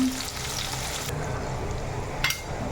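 Mustard seeds and curry leaves sizzle in hot oil, a steady broadband crackle with a brief sharper spurt of spattering near the end, close and moderately loud with no voices.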